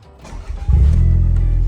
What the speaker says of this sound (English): Let's hear the Toyota sound start up.